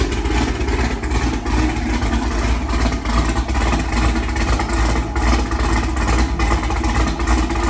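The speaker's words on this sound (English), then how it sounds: "let's go ahead and get a cold start" A tuned car engine with ported cylinder heads runs after a cold start, holding a loud, steady, close idle with a dense low rumble and no voices.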